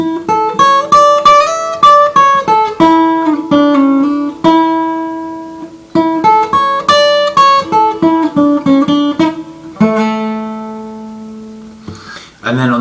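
A guitar plays a picked riff of quick successive notes from the Top Gear theme, repeated twice with short sustained pauses, ending on a held note and a brief strum.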